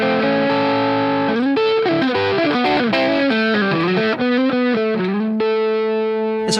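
An electric guitar played through a tiny distortion pedal rings out with a fuzzy, saturated tone, a quick run of picked notes and bends ending on a sustained chord, loud and close with no talk.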